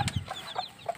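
A mother hen clucks close by in a short run of soft, evenly spaced clucks, heard alone.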